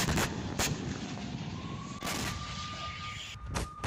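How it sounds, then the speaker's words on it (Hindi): MLRS rockets strike military positions in wartime footage from the Bakhmut area of Ukraine, with several loud sharp blasts standing out over a continuous roaring rumble and a faint steady tone running through the middle. "MLRS से अटैक किया जा रहा है।"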